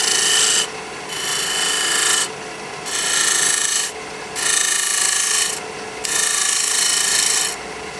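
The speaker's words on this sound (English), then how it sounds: "I can shear scrape a little bitty bit." A shear scraper rasps across the wooden frame of a small handmade pocket mirror, in three long, even strokes separated by brief pauses, close and fairly loud.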